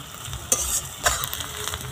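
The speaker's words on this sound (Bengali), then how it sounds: "পেঁয়াজটা ভালো করে ভেজে নেব।" Chopped onion fries in hot oil with whole spices for a Bengali chicken kosha, a close continuous sizzle with two brief stirring scrapes.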